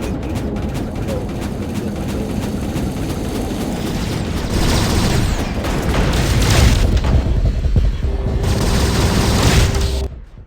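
Heavy weapon fire in the War Robots mech game, a dense, loud barrage of shots and booming blasts that swells in the middle and runs almost continuously before cutting off at the end.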